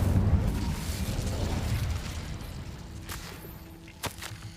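Incendio fire spell cast in the video game Hogwarts Legacy, a loud roaring whoosh of flame that slowly fades into a low rumble, ending with a faint click.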